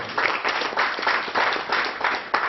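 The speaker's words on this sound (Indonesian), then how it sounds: "Tepuk tangan untuk Pak Awal" An audience at a school ceremony breaks into applause, a loose, rhythmic clapping that swells and dips in repeated waves, fairly close and moderately loud.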